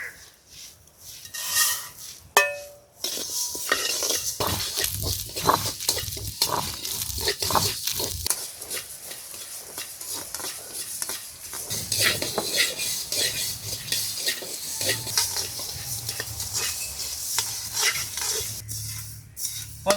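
Coriander seeds dry roasted in a pan for a village-style tomato chicken curry, heard as continuous rattling, scraping and clinking of a utensil against metal, busy and close throughout with brief louder knocks.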